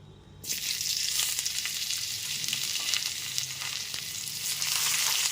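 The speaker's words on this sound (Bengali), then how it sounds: "এরপর এর মধ্যে কেটে রাখা টমেটো টুকরোগুলোকে দিয়ে দিচ্ছি" Cut tomato pieces tipped into hot tempering oil for moong kalia, setting off a sudden loud sizzle that carries on as a steady, dense hiss.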